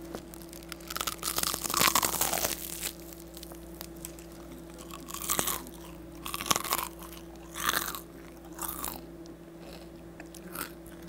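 Close crunching bites and chewing of crispy duck wings, several loud crackling bursts in irregular bursts over a steady low hum, no talk.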